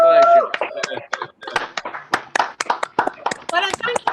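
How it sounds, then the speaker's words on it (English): Clapping for a storyteller at the close of a talk, with a few close, uneven hand claps mixed under continuous speech that carries through the whole stretch. "can we all give Amy Douglas one fantastic round of applause"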